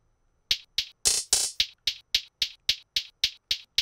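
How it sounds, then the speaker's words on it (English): Percussion and hi-hats from a Latin trap beat: crisp, bright ticking hits in a steady, even pulse, with two louder noisy bursts near the start, dry and up front with no voices. "The next part is a bit of percussion and hi-hats."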